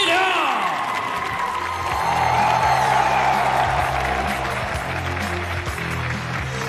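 An arena audience at a WLF kickboxing event in New Zealand applauds and cheers as a Chinese fighter is introduced, a dense sustained crowd roar with whoops under an announcer's amplified voice.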